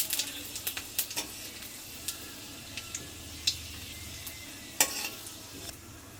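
Dried chilli, bay leaf and panch phoron fry in hot oil in a pan, a steady quiet sizzle dotted with scattered small pops and crackles, with no talking.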